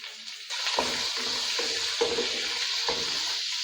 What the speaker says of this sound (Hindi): ये मीडियम साइज का इसमें प्याज हम डाल देंगे।